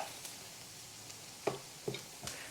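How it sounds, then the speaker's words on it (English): A spoon stirring grits in a pot: a few soft scraping strokes spaced about half a second apart over a faint background hiss, close and quiet, with no talking. "We'll give these grits another little stir"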